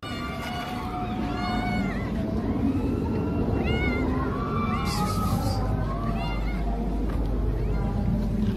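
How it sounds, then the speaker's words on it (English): A cat meows indoors in a string of drawn-out, rising and falling calls over a loud, steady background rumble, with a voice talking now and then. "And there's a cat"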